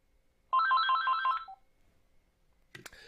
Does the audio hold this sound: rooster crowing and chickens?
no